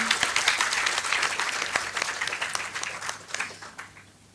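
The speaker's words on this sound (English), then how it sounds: "I request everyone to please give a huge round of applause to you." An auditorium audience at an international chemistry symposium at a university breaks into sustained applause, dense rapid clapping from many hands that stays loud and then slowly thins toward the end.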